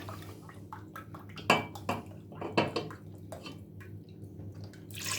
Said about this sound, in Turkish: Sütümü ilave etmeye başlıyorum.